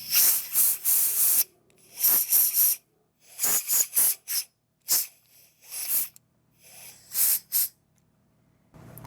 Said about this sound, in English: spray through all these passages.